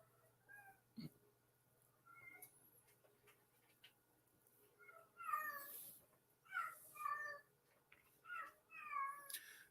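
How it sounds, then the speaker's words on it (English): A house cat in heat meows and yowls repeatedly, with drawn-out calls growing louder and more frequent toward the end, heard indoors over a quiet background with occasional faint ticks. "if you hear one of my cats here, she's in heat"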